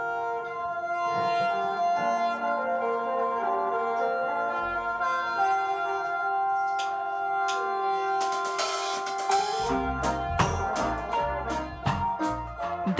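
A Thai reggae band plays a relaxed groove with a steady bass line and layered instruments. Near the end, cymbal crashes and drums build up and grow busier.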